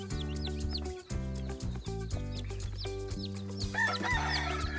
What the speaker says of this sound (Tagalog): Yan po mga manok oh. Mga native lang ito.